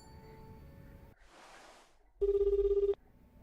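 A telephone ringing in the video game Like a Dragon: Infinite Wealth: one short, loud, trilling ring bursts out after quieter background game sounds, then cuts off.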